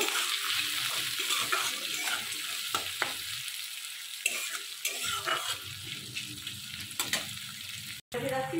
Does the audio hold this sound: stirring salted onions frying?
yes